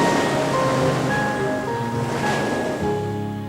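Huge ocean waves in a loud, continuous roar of surging water and wind, steady throughout with a slight fade at the end and no voices.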